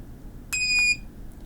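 Buzzer on a Cortex-M4 development board sounding when switch 1 is pressed, a single short, shrill electronic beep lasting under half a second over a quiet room hiss.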